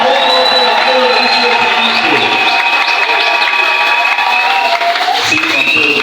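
A church congregation applauds and cheers for the Lord in a loud, sustained burst of clapping and shouts, with singing or chanting voices running continuously through it.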